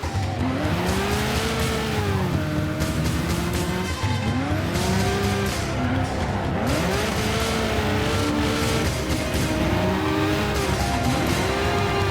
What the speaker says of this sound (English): Engines now from Hot Wheels Unleashed.